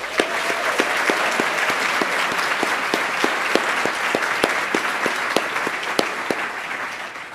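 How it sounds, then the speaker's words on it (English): A large awards audience at a healthcare ceremony gives loud, sustained applause for the finalists, with dense, even clapping throughout and no voices rising above it. "Please join me in giving all these finalists a rousing, rowdy cheer of appreciation"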